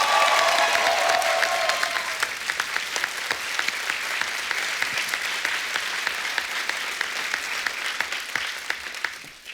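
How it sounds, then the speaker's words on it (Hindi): Studio audience at The Kapil Sharma Show breaks into loud, sustained applause for Tiger Shroff, a dense wash of clapping that holds steady for nearly ten seconds with no talk over it. "एक बार जोरदार तालियां टाइगर के लिए हो जाए।"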